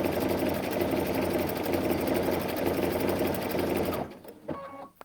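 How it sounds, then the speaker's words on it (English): A Baby Lock Anthem sewing machine hums through a steady, fast ladder stitch for about four seconds, close and loud, then stops abruptly and leaves faint clicks. "It takes a minute to stitch"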